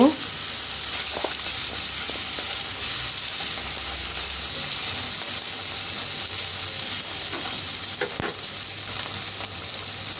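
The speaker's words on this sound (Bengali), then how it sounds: "এই তো এভাবে উল্টে পাল্টে একটু ভেজে নেব।" Koi fish frying in oil in a pan for a tel koi recipe, a loud, continuous crackling sizzle that holds steady throughout, with a few faint clinks as the pieces are turned.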